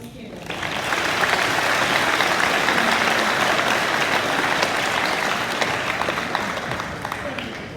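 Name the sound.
audience applause for students at awards day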